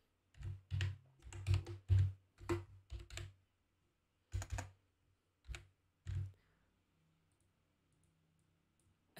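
Bursts of clicky typing on a computer keyboard while entering text, with quick keystroke runs separated by short pauses, then the keys go silent near the end.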